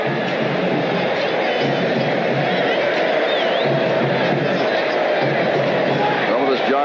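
Large crowd at a 1985 USFL football game between the Oakland Invaders and Birmingham Stallions, a steady dense roar and babble of many voices filling the stadium with no break.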